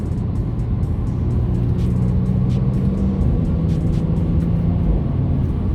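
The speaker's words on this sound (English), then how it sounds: "Nice pops on the upshifts" A 2022 Genesis G70 Launch Edition pulls hard on the highway, its engine and road roar steady and loud while faint exhaust pops crackle at the upshifts.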